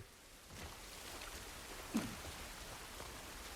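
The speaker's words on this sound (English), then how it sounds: "This rain ain't gonna do us any good." Steady rain hisses softly throughout in The Last of Us video game, with a single faint thump partway through; no voices.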